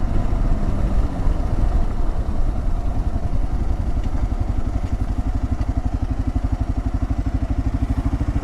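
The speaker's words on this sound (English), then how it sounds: "I'm pulling over right now for a second." A 2022 Kawasaki KLR 650 adventure motorcycle slowing and pulling over, its single-cylinder engine droning loud and close, then settling into a steady throbbing idle, with no talk.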